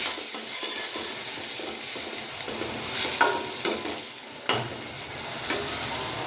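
Grated onion paste sautéing in a pan for a Gujarati chana curry, a steady close sizzle and fry with intermittent scrapes and stirring knocks of a spoon against the pan, no talk.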